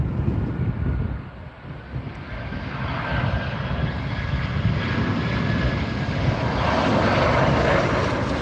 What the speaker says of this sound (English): Here is the Jet2.